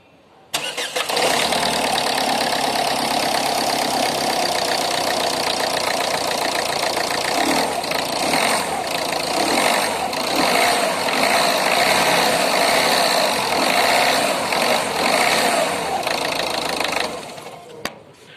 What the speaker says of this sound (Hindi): और अगर तो अभी मैं आपको इसके इंजन नॉइज